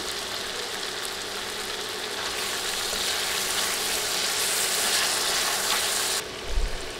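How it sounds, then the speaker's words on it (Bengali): Potatoes sizzle steadily in a pan as a cabbage dish cooks, after five minutes covered, and are stirred, giving a fairly soft frying hiss with faint scraping and a brief low knock near the end. "ঢেকে 5 মিনিট রান্না করার পর এবার নেড়ে দিচ্ছি।"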